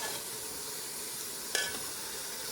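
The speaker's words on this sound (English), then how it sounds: "Stir that garlic powder into there real good" Garlic powder stirred into sizzling pork neck bones in a pot, a constant hissing fry with one short sharp scrape midway, close and without talk.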